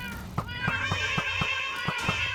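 A cat meows repeatedly inside a video game, about eight short evenly spaced meows over a steady bright tonal backdrop, fairly loud and close.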